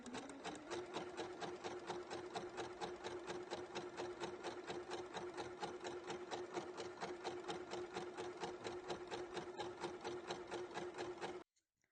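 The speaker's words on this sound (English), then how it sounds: "So I've sewn the side seams now" A sewing machine runs steadily for about eleven seconds while stitching the side seams of a knit dress, a fast, even needle rhythm that stops abruptly at the end.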